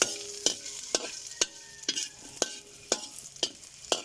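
Ginger and onion stirred in a pan while cooking shells caught from a fishpond: regular scraping strokes about twice a second over a soft sizzle, close and clear, no talking.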